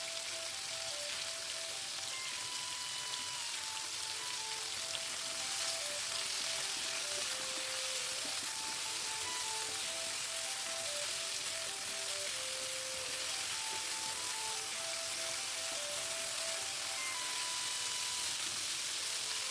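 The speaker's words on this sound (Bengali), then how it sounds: "কপিগুলো যতক্ষণ ভাজা হচ্ছে" Cauliflower florets lightly salted with turmeric fry in a pan, giving a continuous even sizzle like light rain, quiet and unbroken, with a faint melody playing underneath.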